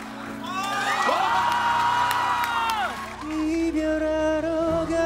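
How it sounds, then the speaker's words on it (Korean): Audience cheers and whoops ring out at a Korean comedy show stage, loud and overlapping with a sung or drawn-out vocal line that sweeps through the crowd noise before steadier tones take over. "박수!"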